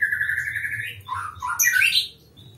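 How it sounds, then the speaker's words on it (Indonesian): A ciblek songbird kept as a cage bird gives a short run of bright, high chirps and twittering notes, close and clear over a quiet background hum. "burung kicau."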